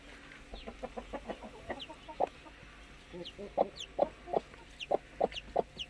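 Newly hatched Easter chicks peep in high, repeated chirps close to a hen, which clucks softly at times. The peeping grows louder and more regular toward the end.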